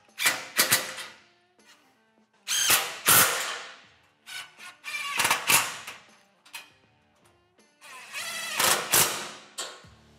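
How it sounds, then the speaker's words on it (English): Power drill driving and tightening roof rack bolts on a Kawasaki Mule XT utility vehicle, several loud bursts of mechanical whirring and ratcheting, each lasting about a second, separated by short pauses, close up with no talking. "We'll get all of these bolts put in place and tighten down"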